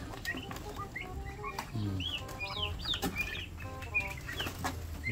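Farm turkeys gathered at feed time, with busy overlapping clucks and chirpy calls, some pecking and shuffling, close by and steady throughout.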